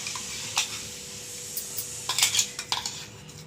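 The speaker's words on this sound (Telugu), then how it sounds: "ఇలా మొత్తం కలిసే విధంగా కలుపుకోవాలండి." Cucumber chutney is mixed in a bowl with a spoon, giving several close, sharp metallic clinks and scrapes that cluster toward the end over a quiet background.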